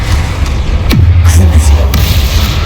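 The Confringo fire spell erupts in a Hogwarts Legacy duel as a sharp, close blast with a deep rumbling tail, set against steady battle ambience.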